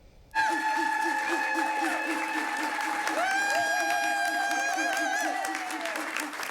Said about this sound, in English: take a listen to just how excited the crowd is here